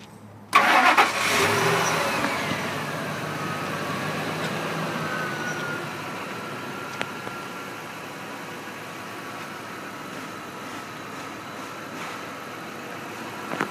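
Ford F-150 pickup with the 5.4 engine cranks and catches near the start, then settles into a steady, quiet, even idle heard close up with no talking.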